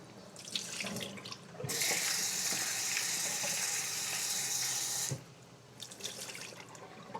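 Salted radish rinsed under a running kitchen tap: a steady, fairly loud gush of water for several seconds, with softer handling and splashing before and after.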